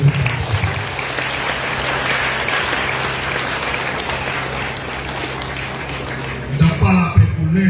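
Sustained applause from an audience at a fiftieth-anniversary celebration of the Kiro movement in Vialet, Petit-Goâve, steady and dense throughout, with voices rising louder near the end.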